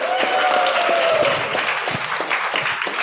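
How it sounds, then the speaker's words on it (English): Audience applause at a startup pitch night: dense, sustained clapping from a crowd, steady and loud throughout, with a brief whistle near the start. "So a big round of applause for that."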